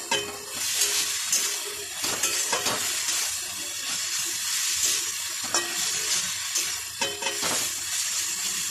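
Mixed vegetables fry with onion, green chili and dried shrimp in a hot pan. A dense, continuous sizzle carries on throughout, with repeated stirring clatters and scrapes close by and no one speaking.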